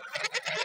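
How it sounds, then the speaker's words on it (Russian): A flock of geese honking and squawking in quick overlapping bursts, close by and fairly loud. "Гуси, гуси, ажиотаж."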